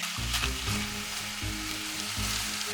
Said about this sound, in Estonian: Ma alustan siis hakkliha praadimisest.